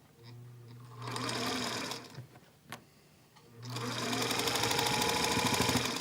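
A sewing machine runs in two bursts, a steady whirring mechanical hum with a rapid stitching rhythm, separated by a quiet pause with a couple of small knocks. The second run is longer and louder.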